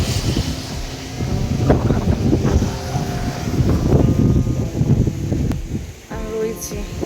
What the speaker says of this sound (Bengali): হাওয়া দিচ্ছে দেখো, কি জোরে জোরে হাওয়া।